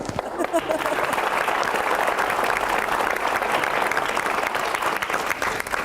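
A studio audience claps loudly and continuously in a thick, even wash of applause that holds steady for several seconds.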